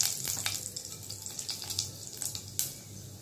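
Five-spice tempering crackles in hot mustard oil in a pan, a quiet sizzle studded with sharp pops and spits of the seeds bursting.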